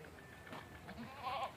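A goat on a village farm gives a short, faint bleat near the end, over quiet rural background noise.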